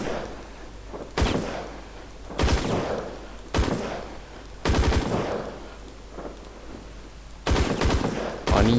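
Hip-fired gun in the InZone Online shooting game, with short, loud automatic bursts repeating about every second or so, crisp and close, heard alone with no talk.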